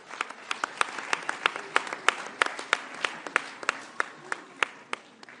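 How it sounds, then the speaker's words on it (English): Sparse, fairly quiet clapping from a small group at a formal press event with leaders, individual claps standing out sharply in a loose, uneven rhythm. "Let's give them a round of applause."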